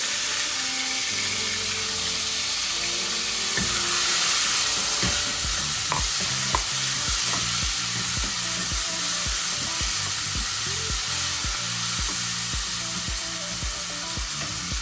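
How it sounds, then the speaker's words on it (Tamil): Onions, curry leaves and green chillies fry in hot oil for a bitter gourd and mutton dish, a steady loud sizzle broken by regular scraping strokes of a stirring spoon. "நம்ம இப்போ வெங்காயமும் கருவேப்பிலையும் போட்டுக்கலாம். பச்சை மிளகாயும் அது கூட சேர்த்து போட்டுக்கலாம்."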